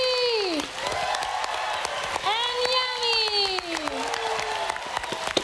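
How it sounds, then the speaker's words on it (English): Polite audience clapping at Minecon Earth, a moderate, even patter of applause running under a host's speech with rising and falling intonation. "Polite clapping."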